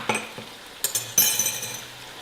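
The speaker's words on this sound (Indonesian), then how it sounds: "Lalu kita aduk ya sampai gula merahnya itu meleleh." Palm sugar, tamarind and water being stirred in a pan, a utensil scraping and clinking against the metal in a few irregular taps and scrapes, close by, with no talking.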